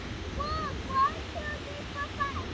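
A waterfall at Rowlett Park in Tampa gives a steady, even rushing wash of water heard from a short distance, with faint voices and chirps over it.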